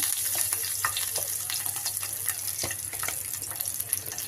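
Eggs frying in oil for a Telangana-style egg curry with onion, giving a dense, steady hiss with fine crackles throughout, close and continuous.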